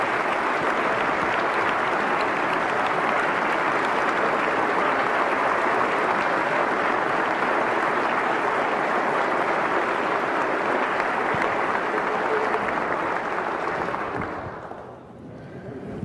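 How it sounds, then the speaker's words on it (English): A large audience at a state address claps in sustained, dense applause that holds steady for about fourteen seconds before fading out. "Please give them a big round of applause because they've worked really hard."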